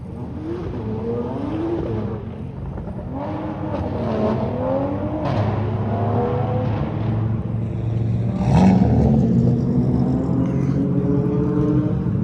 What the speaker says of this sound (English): I know this SRT is going to be loud.